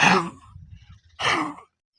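Two short, rough, throaty coughs separated by a brief pause, close and fairly loud, with faint panting-like noise between them.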